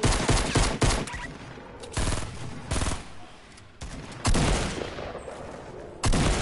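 Gunfire in a video game shooter, with loud bursts of rapid shots coming in several separate volleys and brief lulls between them, dense and close throughout.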